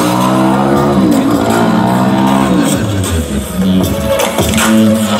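A Suzuki DR-Z4S motorcycle engine revs on display at EICMA 2024, its loud tone rising and falling in sweeping pitch over constant crowd noise.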